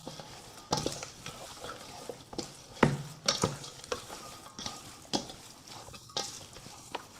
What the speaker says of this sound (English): Knead the meat well, making sure to work it thoroughly.